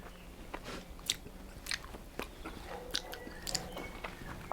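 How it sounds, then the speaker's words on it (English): Smoked baby back ribs cooked on a Kamado are bitten and chewed up close, with soft, wet crunches and smacking bites repeating every second or so over a quiet background. "Excuse me if I have a nibble at this"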